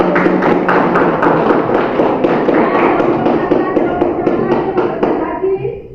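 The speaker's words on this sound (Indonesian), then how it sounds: "Ya, tepuk tangan" Classroom students clap hands together in quick, loud, sharp claps, steady and continuous before thinning out and fading at the end.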